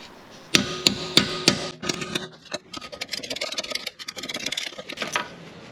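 A reverse easy-out is hammered onto the locking wheel nuts of an Audi RS5: a run of sharp, loud metallic strikes in quick rhythm, then lighter scraping and clinking as the tool bites.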